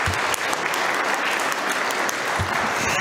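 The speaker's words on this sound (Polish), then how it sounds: "Duże brawa dla naszych absolwentów." An audience claps steadily and loudly for new dentistry graduates at a university diploma ceremony, with a few sharper individual claps standing out from the dense clapping.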